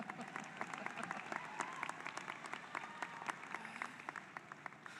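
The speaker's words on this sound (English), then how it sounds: "Oh, I want to clap for you" Sustained applause from a large graduation ceremony audience, dense steady clapping that fills the whole stretch at an even, moderate level with no voices on top.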